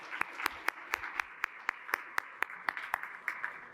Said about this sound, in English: let's give all of our forum sponsors another round of applause